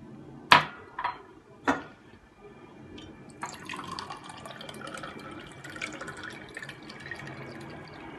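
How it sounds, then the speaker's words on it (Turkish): Vinegar poured into glass jars packed with garlic for pickling, opening with a few sharp clinks and taps, then a soft continuous trickle of liquid filling a jar nearby. "Bir çay bardağı sirkemizi her kavanozda döküyoruz."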